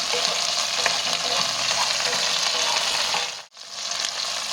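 Onions sautéing in hot oil give a dense, loud, continuous sizzle, close by, with a momentary dip near the end before it resumes.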